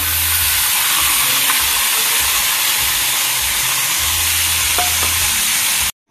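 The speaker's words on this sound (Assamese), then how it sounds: "এতিয়া পনীৰখিনি গৰম কৰিলো" Paneer heats in a pan with a loud, steady frying hiss and sizzle, continuous and close, cutting off abruptly at the end with no talk.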